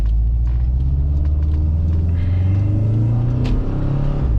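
Saab 9-2X Aero with a JDM sportshift conversion pulling away in first gear on a Los Angeles street, a loud steady engine rumble climbing in pitch as it accelerates, close and continuous with no talk.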